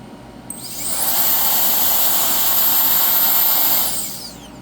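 A MECO mini rechargeable blower/duster spins up to a loud, steady high-pitched whine of rushing air, holds for about three seconds, then winds down, close to the listener.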